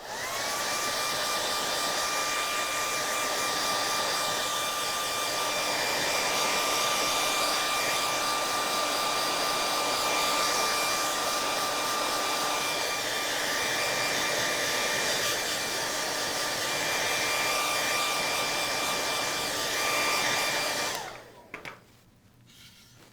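A hair dryer runs steadily on acrylic paint on a craft piece, a loud, close, continuous whoosh with a high motor whine that holds for about twenty seconds before switching off abruptly, leaving near silence; no one speaks.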